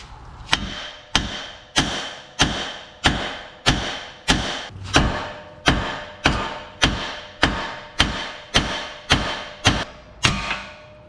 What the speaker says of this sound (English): Get yourself a hefty hammer, and you're going to want to hit around the steering knuckle.